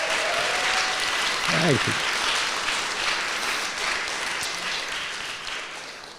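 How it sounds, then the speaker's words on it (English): An audience applauds a panel in a lecture hall. The clapping is loud and steady at first and slowly fades, with a voice briefly speaking over it. "give them a big round of applause"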